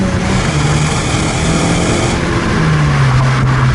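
Steady, loud road and engine roar from inside a Mitsubishi Lancer Evolution Final Edition cruising on the road, a constant broadband rumble with a slowly shifting engine tone and no talking.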